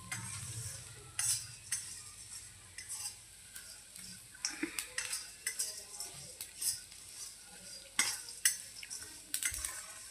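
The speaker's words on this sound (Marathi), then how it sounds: "आपल्याला याला खालीवर असं हलवत राहायचं आहे, म्हणजे जेणेकरून हे खालून जळणार नाही" Quiet stirring of food in a pot over a sizzling heat, with a spoon scraping and clinking in irregular strokes against the pot over a faint frying hiss.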